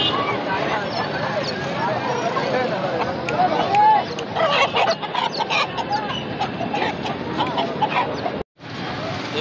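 Chickens cluck and squawk close by amid a noisy market bustle at a Sunday bazaar in Korangi, Karachi, with people talking over the birds throughout.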